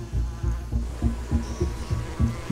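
Honeybees swarm out of their hive entrance to mob an attacking hornet, a dense low buzzing drone that throbs and pulses in repeated surges, close and steady throughout with no talking.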